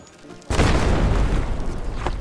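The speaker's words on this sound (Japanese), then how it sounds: "じゃあ大砲撃ちますか" A cannon booms as artillery opens fire in Europa Universalis IV, with a sudden loud, heavy blast after a quiet lead-in, followed by a sustained rumbling roar that rolls on for the rest of the clip.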